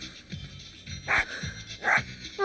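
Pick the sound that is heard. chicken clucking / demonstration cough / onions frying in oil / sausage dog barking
sausage dog barking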